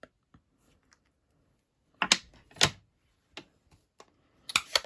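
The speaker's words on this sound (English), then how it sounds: "Ink those both up together and stamp" Rubber foliage stamps mounted together on one acrylic block pressed onto card stock, producing a few soft, close taps and clicks separated by quiet gaps.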